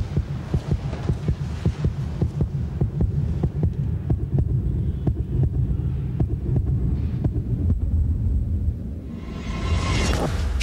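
A heartbeat sound effect from a German TV commercial thumps in a steady, throbbing rhythm over a low hum for most of the stretch, ending with a brief rising whoosh.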